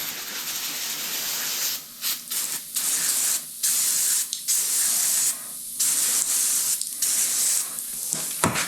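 Several bursts of carburetor cleaner aerosol spray, short and long hisses separated by brief pauses, close and loud with no talking, while servicing a John Deere 110 tilt cylinder.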